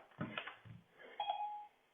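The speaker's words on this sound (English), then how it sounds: "Sorry, my phone again doing the same." A mobile phone notification chiming during a vinyasa yoga class, a short series of soft electronic tones ending in a held beep, faint and close.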